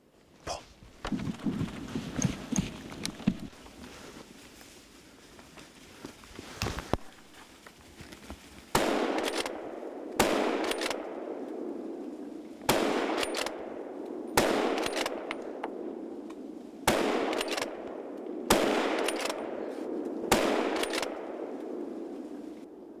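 Rifle shots ring out during a cold-weather wild boar hunt, about seven sharp, loud cracks spaced a few seconds apart, each trailing off in a long echo, after a quieter opening with scattered rustling.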